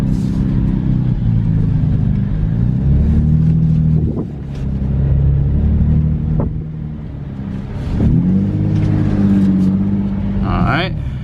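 Drift car engine rumbling and revving as it drives, with rising and falling engine tones and shifts, loud and close throughout, with a voice speaking briefly near the end.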